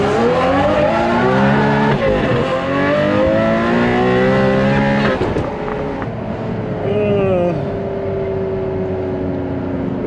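Ferrari 599GTB accelerating hard on the Utah Motorsport Campus race track, engine pitch sweeping upward through gears in loud, sustained revving close by, with a brief shift dip midway.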